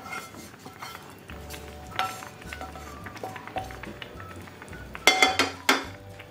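A spoon clinks and scrapes against a pot while fried carrot is stirred into rice kheer, with irregular metallic taps building to a few louder, sharper clanks near the end; no talking.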